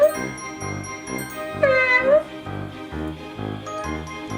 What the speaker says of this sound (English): our alley cat who meows